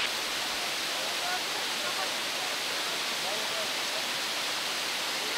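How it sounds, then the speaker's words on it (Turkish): Girlevik waterfall in eastern Anatolia in spring, swollen with snowmelt, gives a steady, loud, unbroken rush of falling water that fills the whole clip without pause. "Şelaleniz muhteşem."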